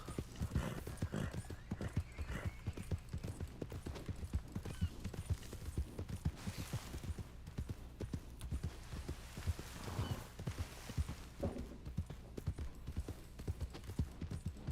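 A Mustang horse trots through Red Dead Online, its hooves clip-clopping in a steady, even rhythm throughout, with creaking tack and a brief whinny mixed in at a moderate distance.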